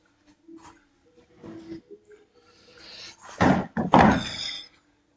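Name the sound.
chair being picked up and moved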